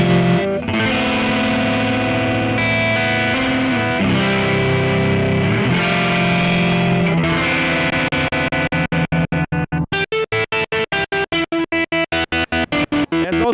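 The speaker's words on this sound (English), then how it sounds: "Now we have the same thing as an auto panner" A distorted electric guitar runs through a Kemper auto panner effect in stereo, sustained chords giving way to rapid rhythmic chopped pulses, loud and close with no talking.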